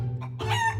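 A chicken gives a short, fairly loud burst of clucking and squawking at close range, over a steady low background hum.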